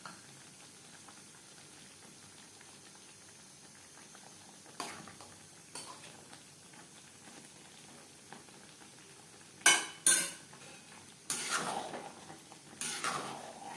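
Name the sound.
stirring ghee, garam masala and kasuri methi in a pan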